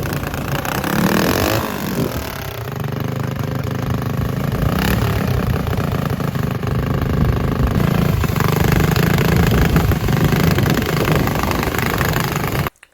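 A loud motorized drift trike engine runs steadily, rumbling and droning continuously with a slight rise in revving, no voices present.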